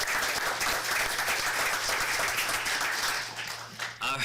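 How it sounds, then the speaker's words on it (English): Applause at a Turlock city council meeting, a sustained, even roomful of clapping that holds steady and then starts to taper off near the end. "Give a round of applause for all"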